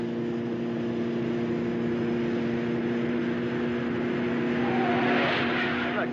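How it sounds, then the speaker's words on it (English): Steady, close engine drone of a car driven fast on an empty road, held at an even pitch throughout with a faint rising tone near the end and no clear talk. "Always wanted to know how fast this car will go"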